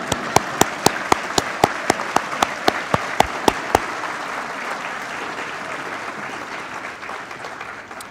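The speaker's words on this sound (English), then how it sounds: "Now you may clap." Applause at a firefighter graduation ceremony, opening with a dozen loud, evenly spaced single claps before a full crowd joins in with sustained clapping that slowly fades.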